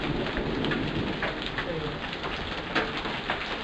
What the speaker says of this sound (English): Coming back, hail.